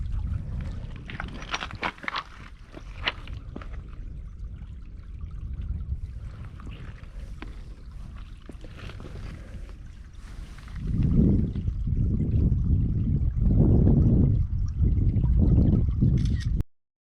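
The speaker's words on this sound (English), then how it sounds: "Water's just flowing." Water flows and trickles at an old rifle range in Kingsdown, Kent, making a steady hissing wash that swells into louder, surging gushes toward the end, with no talking.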